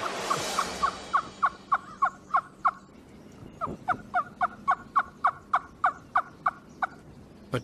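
A wild turkey call imitation in the style of a yelper made from a hollow wing bone gives two runs of sharp, evenly spaced yelps, about a dozen each, loud and close with a short gap between series.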